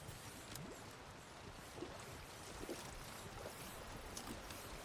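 Game character wading through water in Death Stranding 2, faint soft sloshing and swishing over a steady windy outdoor ambience, quiet and continuous without talking.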